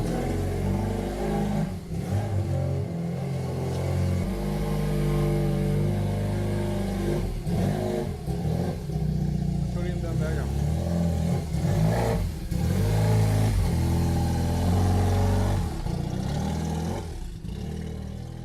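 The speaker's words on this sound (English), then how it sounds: "This is the power output of this BMW, after the installation of a turbocharger." A powerful turbocharged BMW cafe racer motorcycle engine revs repeatedly, rising and falling in loud surges with brief dips between, close and rumbling throughout.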